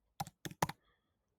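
Three quick clusters of clicks from a computer keyboard being typed on, close and fairly quiet, with near silence between them and a single clack at the very end.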